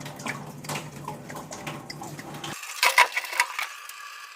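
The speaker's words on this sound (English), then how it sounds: "But I am getting a little water out." Water dribbles from a drained pipe at a leaky gate valve. A brief continuous trickle gives way to a few faint, close drips in a quiet space.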